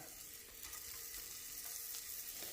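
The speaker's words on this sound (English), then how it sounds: "we're going to add our fennel to this, and we're going to saute it until it's a golden brown color" Fennel sautéing in a pan, a soft, steady sizzle with a faint crackle, quiet and uninterrupted, with no talking.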